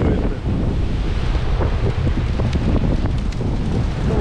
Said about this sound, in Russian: Да, по сути, ветер такой, конечно, сильный достаточно